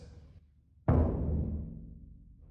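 A single deep concert bass drum stroke, muffled by a hand on the back head, lands after a brief quiet moment, its boom dampened so it fades fairly quickly, close and moderately loud.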